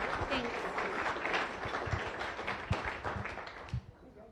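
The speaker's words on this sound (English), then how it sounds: "Please join me with a round of applause for all of our visiting Rotarians and guests." Applause fills a meeting room as a Rotary Club audience claps for visiting Rotarians and guests, a dense steady patter of many hands with occasional sharper claps, fading slightly toward the end.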